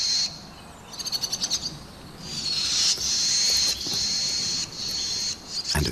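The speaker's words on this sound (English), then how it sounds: "The swallow parents continue their clamor." Swallow parents give sharp, repeated alarm calls after an owl takes prey, a burst of rapid chirps followed by longer, insistent high calls in bursts, fairly close and clear with no talking.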